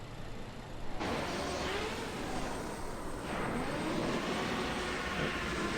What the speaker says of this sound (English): Singapore Airlines taking off, or is it landing? No, it's landing.